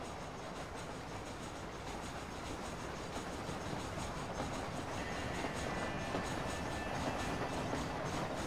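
Train rolling along tracks in the Red Dead Redemption video game, a steady rumble and clatter of wheels on rails that runs through the whole clip at low level, with no talking.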